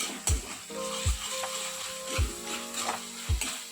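Mashed tomato masala for stuffed brinjal sizzles in oil in a pan, with a continuous fry punctuated by four sharp scraping stirs of a spoon at regular intervals.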